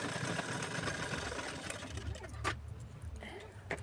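A sewing machine stitches a small blouse, its needle running in a brisk mechanical whir that slows and stops partway, leaving a few soft clicks and handling noises.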